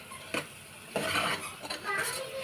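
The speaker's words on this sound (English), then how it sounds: "fry all these ingredients very well" Chopped tomatoes, coriander and curry leaves being stirred and fried in a pan for a bitter gourd curry: soft scraping and clinking of a utensil against the pan over a faint sizzle, close and fairly quiet.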